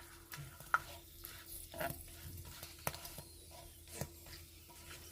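Nurungji, a scorched rice crust, frying in hot oil, giving a soft, steady crackle and sizzle with a few louder pops and stirring clinks near the pan.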